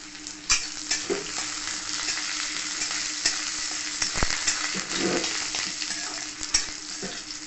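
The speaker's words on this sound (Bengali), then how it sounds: "এরপর দিয়ে দেবো পেঁয়াজ কুচি, রসুন থেতো করা রসুন দিয়ে ভালো করে নাড়াচাড়া করে দেবো।" Chopped onion and crushed garlic frying in hot oil with a green chilli in a pan, giving a steady close sizzle broken by several clacks and scrapes of a spatula as it is stirred.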